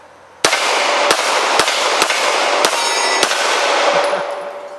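CZ P-09 pistol fired rapidly, about seven sharp, loud shots at roughly half-second intervals, each with ringing echo over a steady noisy background.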